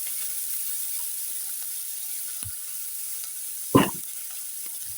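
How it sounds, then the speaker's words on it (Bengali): Spice masala fries with a splash of water in a pan for kuchia fish bhuna, giving a steady close sizzle and hiss broken by one brief clatter of stirring. "এখানে একটু পানি দিয়ে আমি কষিয়ে নিচ্ছি"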